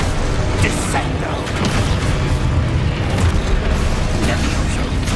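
Descendo spell cast in Hogwarts Legacy, a loud booming magical slam that rolls into a dense, continuous wash of rumbling game effects with no clear pause.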